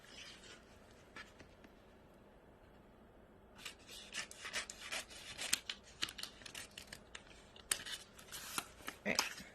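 Scissors snipping through tattoo wrap film, quiet and close, with a hushed start followed by a run of crisp, irregular cuts and crinkling rustles.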